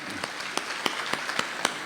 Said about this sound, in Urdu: ایک زوردار تالیاں